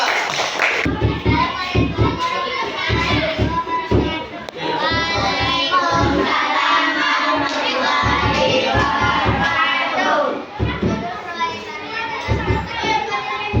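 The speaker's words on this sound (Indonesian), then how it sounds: "kasih tepuk tangan untuk kelompok 4" Schoolchildren in a classroom clap for a group of classmates, with bursts of hand claps mixed into lively, close children's chatter and shouting throughout.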